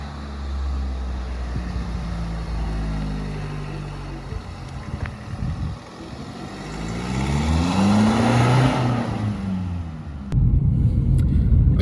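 A modified diesel Mini rumbles along the road, engine note climbing as it accelerates through the gears, then a louder throaty surge near the end, heard close from inside the car.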